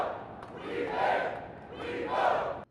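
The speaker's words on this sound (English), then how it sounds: "trying to raise enough noise to get through to Governor DeWine and state lawmakers" Crowd of about 400 vaping protesters shouting outdoors on the West Plaza of the State House, two swelling waves of massed voices rising and falling.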